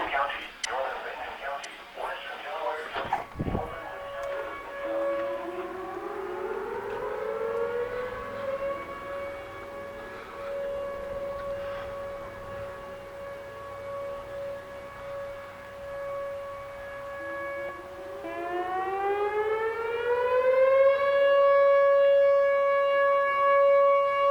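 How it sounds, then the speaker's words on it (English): Outdoor civil defense warning sirens wail during the 2020 Iowa derecho storm, several tones rising and sustaining together, loud and steady over roughly twenty seconds with a fresh rising sweep near the end, after a brief burst of rough noise at the start. "Sirens are going off."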